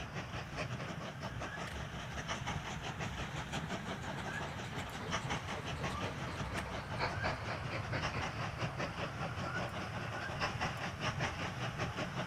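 Continuous rolling train noise with rapid clickety-clack rhythm and steady hiss from a running train in the video game Mashinky, moderately loud and unbroken with no talking.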